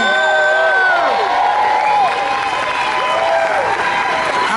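Loud applause mixed with whoops and cheering voices greets Patti LaBelle at a Walk of Fame ceremony. The crowd noise is continuous and energetic, with shouting rising and falling over steady clapping.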